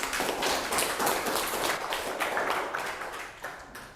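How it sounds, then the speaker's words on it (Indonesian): A classroom of pupils claps for a classmate during a Catholic religion lesson, with fairly faint, scattered hand claps that fade toward the end. "tepuk tangan."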